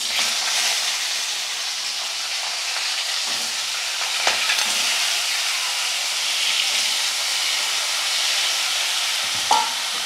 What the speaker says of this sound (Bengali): দেখুন বন্ধুরা, এই পাগুলোকে আগে দিয়ে ওর মধ্যে দিয়ে ভালো করে এটাকে ভেজে নেবো।